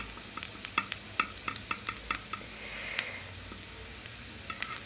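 Soft onions fry in a pan for chips masala, giving a steady low sizzle broken by frequent sharp clicks and scrapes of a spoon stirring, close and fairly quiet, with no talking.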